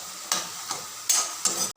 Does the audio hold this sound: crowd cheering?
no